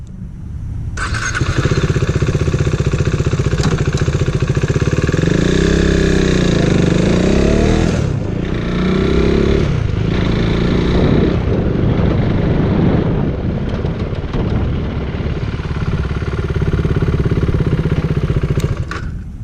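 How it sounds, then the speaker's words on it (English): A motorcycle pulls away hard and climbs through the gears to fourth, the loud close engine note rising and dipping at each upshift, continuous throughout with no talk. "So I'm going to take off and try to get to 4th gear"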